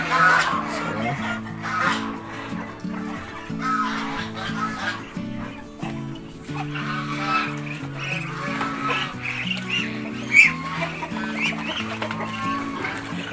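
A flock of turkeys in a free-range backyard poultry yard makes a busy clucking, gobbling racket, continuous and fairly close, with a few sharper calls standing out.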